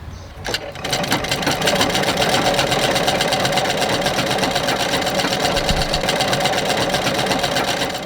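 A sewing machine stitches clothes for a volunteer group making festive outfits for orphaned children. After a brief start-up, a close, loud, fast rhythmic whirring runs continuously.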